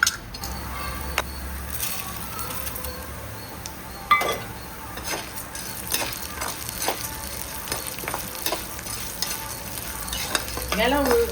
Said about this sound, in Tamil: வெள்ளை உளுந்தும் போட்டு இருக்கிறேன் கடலைப்பருப்பு கூட. வறுத்து இது தனியாக எடுத்து வச்சுக்கணும்.